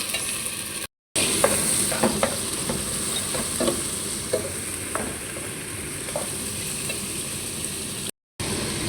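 Chicken fries in a pan, giving a steady sizzle punctuated by repeated scraping clicks as it is stirred, close and moderately loud with no voices.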